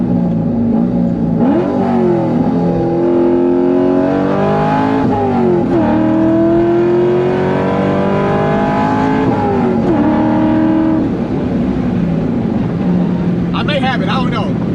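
Cammed C5 Corvette Z06 with a manual gearbox, driven with a loud interior engine drone that climbs and drops through repeated revs and gear changes, continuous and close, with a person talking over it.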